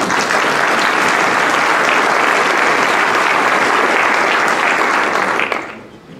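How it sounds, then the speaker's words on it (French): A congress audience applauds candidate Denis Desprit, a loud, sustained wall of clapping that holds steady before fading out near the end. "vous pouvez applaudir Denis Desprit, absolument"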